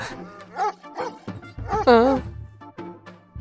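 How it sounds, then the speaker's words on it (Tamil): Dogs bark and whine at night in short yips and a drawn-out, wavering howl, close and fairly loud, mixed with voices. "இந்த டைம்ல இந்த நாய்ங்க ஏன் கத்தின்னு இருக்கு"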